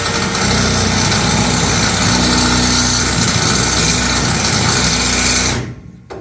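A loud, steady high-pitched whine of a power drill running continuously for several seconds during restoration of a 1947 Crippen mill, then cutting off abruptly near the end.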